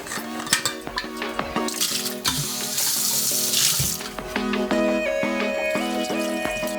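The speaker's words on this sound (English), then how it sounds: "My wife would kill me if I didn't refill the Brita filter." Cold tap water runs into a Brita filter jug at a kitchen sink, a close splashing stream broken by clinks and knocks of the plastic pitcher.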